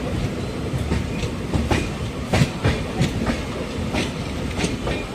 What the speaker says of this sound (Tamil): மக்களே இந்த ட்ரெயின் போகிறோம் பாருங்கள்.